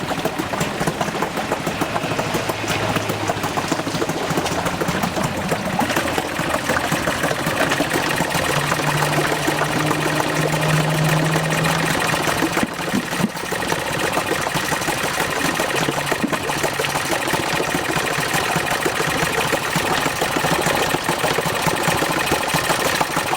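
A Yamaha 4hp outboard motor that needs carburettor work idles steadily nearby with a fast, even mechanical chug and rattle, continuous and without talk.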